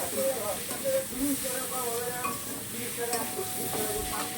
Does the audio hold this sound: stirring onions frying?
yes